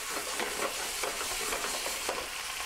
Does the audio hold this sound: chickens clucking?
no